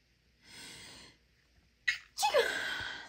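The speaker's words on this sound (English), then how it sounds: "I think I'm going to sneeze." A person sneezes once, loud and close, after a short breathy inhale; there is no talk.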